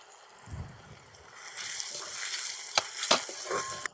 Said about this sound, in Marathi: थोडंसं मीठ टाकून घेऊया म्हणजे कांदा टोमॅटो मेल्ट होईल